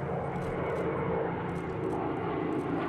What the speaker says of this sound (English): Moments later, two P-51 Mustangs flew astride an A-26 Invader